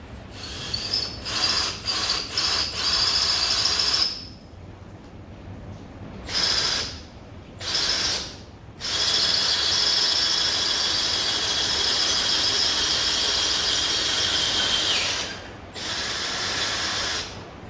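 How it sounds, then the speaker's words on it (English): A power drill boring through the plastic battery box cover of a Honda Ruckus scooter, a high whining motor in several bursts, short stops and then a longer steady run, close and loud. "let's drill this thing out and go from there"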